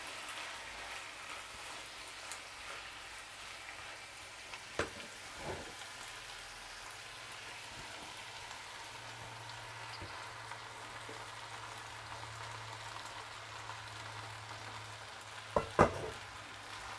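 Udon noodles fry in a pan alongside vegetables, a large batch being stirred. A faint, steady sizzle runs throughout, broken by a few soft knocks and scrapes from stirring, with a small burst near the end.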